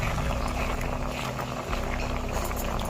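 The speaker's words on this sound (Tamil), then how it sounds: "அது பாட்டுக்கு வெந்துக்கிட்டே இருக்கும் நல்லா பருப்பு வேகட்டும்" Dal for sambar simmering in a pot, a steady low bubbling and hissing boil that runs continuously at close range with no talking over it.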